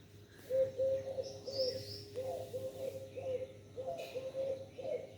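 A dove calls from nearby with a series of soft, evenly spaced low coos in repeated phrases, over a steady low hum, with a faint higher chirp now and then and no talking.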